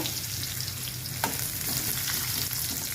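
Onion frying with panch phoron and bay leaf in a pan, a steady close crackling sizzle throughout with a faint stir or clink partway.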